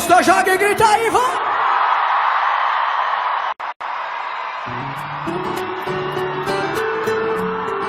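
A birthday party crowd yells and cheers loudly against blaring music, with a short dropout partway through, then the music carries on beneath the noisy crowd.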